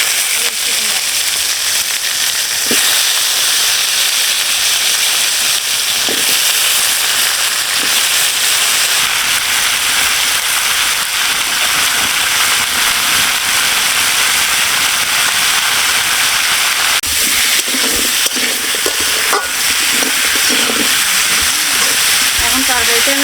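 Sweet potato chunks fry in hot oil seasoned with whole cumin seeds and bay leaves for a village-style fish curry with pumpkin, making a loud, continuous close-up sizzle with crackling pops throughout.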